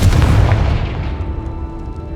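A Confringo spell explosion in the video game Hogwarts Legacy, heard as one loud, deep boom that rolls off into a fading rumble over about two seconds.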